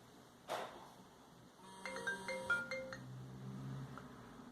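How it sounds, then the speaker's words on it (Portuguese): A mobile phone rings during a live stream, sounding a faint melodic tone that repeats a few times in a quiet room after a single soft thump. "Porque o telefone tocou e me pausou o ao vivo automaticamente."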